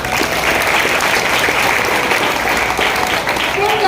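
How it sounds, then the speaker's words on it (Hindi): Enthusiastic clapping from an audience at a business plan presentation, celebrating a product, loud and continuous, with some voices mixed in beneath the applause. "एक प्रोडक्ट के लिए जोरदार ताली हो जाए"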